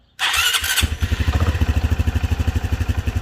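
A Honda Trail 125 motorcycle engine, newly fitted with an oil cooler, cranks and catches with a loud burst, then settles into a steady, close, rhythmic idle with evenly pulsing exhaust beats.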